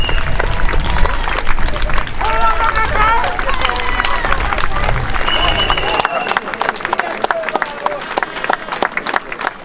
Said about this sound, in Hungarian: A menetet Debrecenbe érkezve hatalmas taps fogadta.